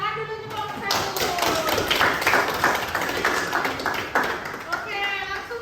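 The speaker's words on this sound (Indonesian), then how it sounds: "tepuk tangan dulu untuk kelompok satu" A classroom claps for a student group, with a burst of many hands clapping and some thumps and taps. Voices and chatter run through it at close range.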